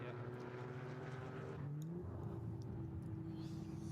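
An SP7-class race car of the Black Falcon team passes on the Nürburgring Nordschleife during an NLS race, its engine drone shifting pitch as it goes by at moderate distance, fairly faint with steady background noise.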